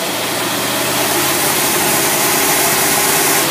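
A Ford engine with a Carter AFB carburetor revs hard and holds at its rev limiter, a loud, steady, dense roar that stays near and constant for a few seconds with no talking.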